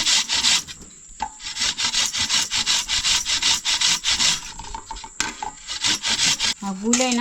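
Cucumber is grated by hand for a traditional village cucumber breakfast dish, making rapid rhythmic rasping strokes, loud and close, with a short break and a few words of speech over the grating.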